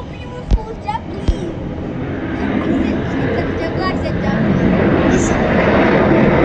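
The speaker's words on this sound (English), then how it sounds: "You got a Spirit landing and a beautiful jet blue taking off." A JetBlue airliner's jet engines roar steadily as it takes off at Atlanta Hartsfield-Jackson airport, heard at a distance and swelling gradually, with nearby people chatting and a couple of sharp knocks early on.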